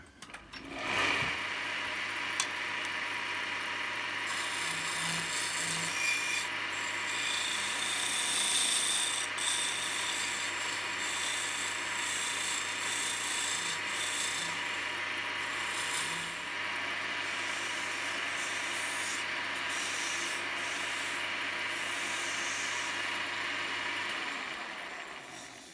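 A round carbide burr grinds into a wooden goblet, a steady, loud, continuous whirring rasp held close for about twenty-four seconds before stopping.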